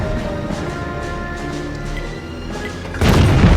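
A heavy tank cannon boom from World of Tanks, fired at a KV-1, erupts near the end, a deep blast over a steady rumbling engine drone and low music.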